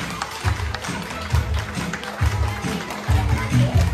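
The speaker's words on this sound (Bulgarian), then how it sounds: "силни аплодисменти" Strong applause fills a hall at a children's letters festival, many hands clapping together in a loud, steady patter with rhythmic low thuds pulsing beneath.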